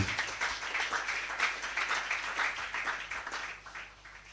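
A church congregation claps together at a healing service, a dense, steady burst of many hands that stays loud and even before tapering slightly at the end.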